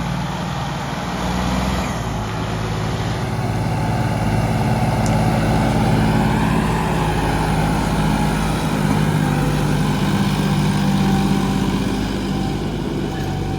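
A John Deere 4x4 tractor engine rumbles steadily and heavily, close by, pulling out a trolley, with a low droning hum that continues without pause.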